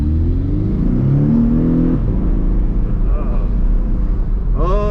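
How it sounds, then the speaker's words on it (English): A 2018 Porsche 718 Cayman's flat-four engine pulls hard from inside the cabin with the windows down, a loud rising drone that shifts pitch around a gear change, with someone speaking briefly over it. "maybe I'll roll down these windows and hear some of that flat 4-cylinder music from this Cayman"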